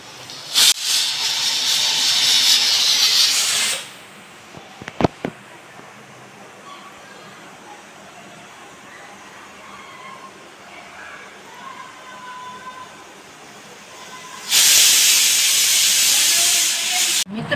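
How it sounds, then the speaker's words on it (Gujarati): A pressure cooker boiling potatoes lets out a loud, steady hissing whistle for several seconds, goes quiet apart from faint kitchen noises and a couple of sharp knocks, then whistles loudly again near the end. "જો આ સીટી વાગી રહી છે."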